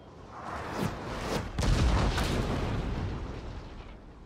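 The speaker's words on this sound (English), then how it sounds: "we're just exchanging artillery fire at the moment" Cannon fire in the Napoleon Total War video game: rolling booms and bursts of artillery build to a heavy blast midway, then settle into a sustained rumbling barrage at moderate loudness.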